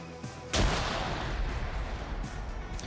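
A grenade blast in a World War II-style British versus Germans multiplayer shooter battle: a sudden loud boom that rolls into a long, dense rumble with scattered battle noise around it.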